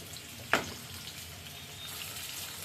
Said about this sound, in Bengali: এদিকে আলু ভাজা হতেছে, আলু ভাজা হতে থাকে